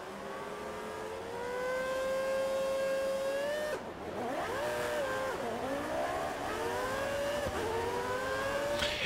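Formula 1 cars in a racing video game rev hard at the start at the Austrian circuit in Spielberg, engines climbing and dropping in pitch with wheelspin as the pack launches, loud and continuous with no voices.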